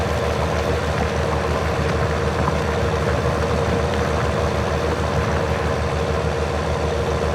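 A tractor engine idles steadily in Farming Simulator 19, a continuous low, even drone at moderate volume with no voices over it.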